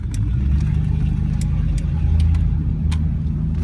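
A 1979 Magnum GT's engine rumbles and revs up as the car accelerates, a steady low drone with occasional clicks and ticks throughout.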